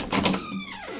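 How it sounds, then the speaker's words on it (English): A door opens close by with a short scraping, sliding rush followed by a sweeping mechanical whine that fades away, alone with no talk. "I strode over, and opened the door."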